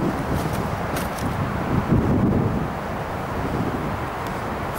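Wind gusts across a carp fishing lake, buffeting the microphone with a low rumbling roar that swells and eases, no talk over it.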